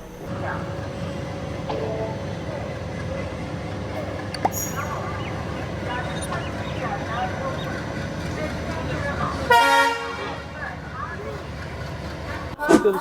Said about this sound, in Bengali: ট্রেন আমাদের ছেড়ে বেরিয়ে গেল শিয়ালদা স্টেশন থেকে।